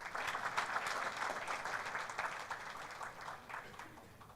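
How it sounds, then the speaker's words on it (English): Sustained applause from a conference audience at a digital transformation summit in Diani, steady dense clapping that tapers slightly toward the end with no voices over it. "One more round of applause."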